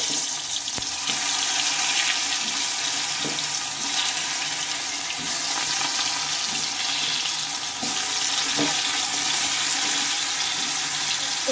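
Raw banana pieces fry in white oil in a wok, giving a steady, dense sizzle that stays loud and even throughout, with a few faint clicks and no talking.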